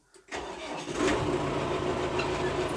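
A small mini tractor engine cranks and catches after a brief quiet moment, then settles into a steady, close, rattling idle in a yard with no one speaking.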